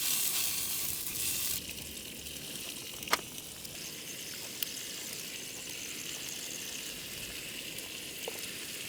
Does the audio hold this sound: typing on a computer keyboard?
no